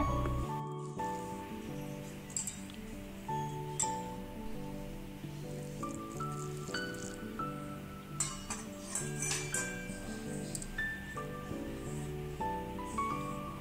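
Rice flour dough for puttu and idiyappam is kneaded by hand in a bowl with a little oil and water, giving soft squishing and light clinking sounds over a faint background, with no talk.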